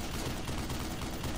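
Gunfire in the video game Black Mesa, a dense and continuous rattle of rapid shots running unbroken at steady loudness throughout.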